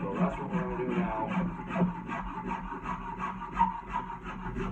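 A hickory hammer handle being smoothed by hand, a steady close rasping and rubbing stroke repeated rhythmically over a low background hum.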